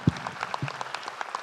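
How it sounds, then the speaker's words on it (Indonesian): Audience applause at an event honoring Erick Thohir, a brief burst of scattered clapping from a crowd, moderately loud and fading quickly. "Pak Erick silakan, tepuk tangan untuk Pak Erick Thohir."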